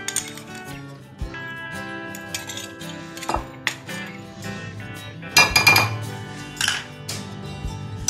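Cream and caster sugar stirred together with a spoon in a bowl while making Russian fruit salad, giving repeated light clinks and scrapes of metal against the dish, close and moderately loud, with no talk.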